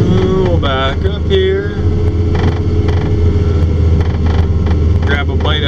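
A John Deere 644K wheel loader pushes snow, its diesel engine droning loud and close throughout while hydraulics whine and rise in pitch. Someone talks over the machine noise.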